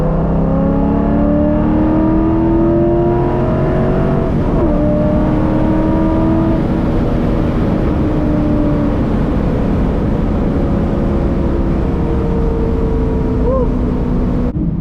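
A stock 2003 C5 Corvette with a six-speed manual accelerates hard, its engine note climbing steadily through a gear, dipping briefly at a shift, then rising again, loud and close throughout.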